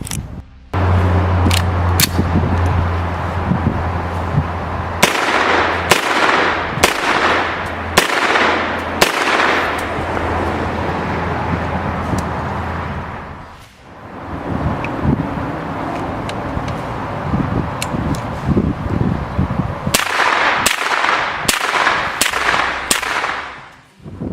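Suppressed Sig Sauer MPX 9mm short-barreled rifle with a Gemtech Multimount suppressor firing outdoors, sharp muffled cracks in quick strings and single shots across a windy background.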